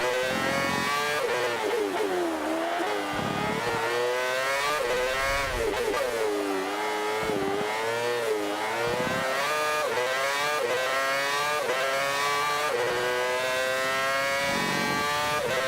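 A race car in Forza howls through repeated accelerations, its loud engine pitch climbing and dropping through gear changes and corners, steady and close for the whole stretch.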